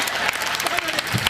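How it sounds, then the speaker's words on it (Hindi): An audience at a Hindi comic poetry gathering breaks into a brief burst of clapping, dense and fairly close, with a voice speaking over it. "तालियां उस बात पे बजा देना"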